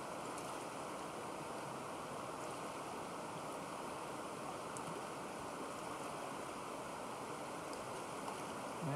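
Water rushes steadily in a continuous broadband flow, an even, unbroken wash of a knee-deep wilderness stream on the 100 Mile Wilderness trail, with no voices.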